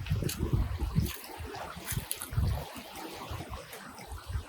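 River water flows and laps in a stretch of the Kallar river, making a continuous close wash with irregular splashy gurgles. Low rumbling sits beneath the water sound and no speech is heard.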